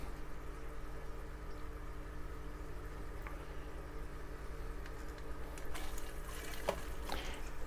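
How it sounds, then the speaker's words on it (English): A steady low rush of water flowing down a pipe into an Eheim Classic 600 external canister filter, faint and continuous, with a few small drips and gurgles near the end. "you can hear the sound how the water is flowing down the pipe and filling up your canister"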